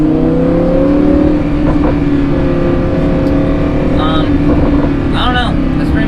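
A Lamborghini Huracan cruises along at steady speed, its engine droning close and loud with a small rise in pitch near the start, while someone talks over it.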